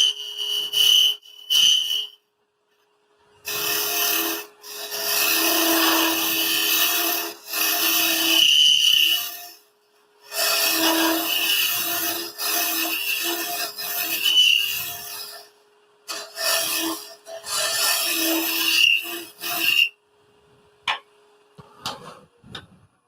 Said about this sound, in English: We'll do some shear scraping in a bit.